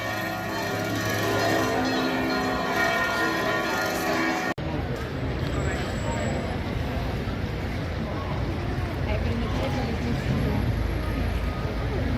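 Church bells in Catania, Sicily ring in a sustained, resonant peal that is abruptly replaced by a broad windy or watery wash of noise.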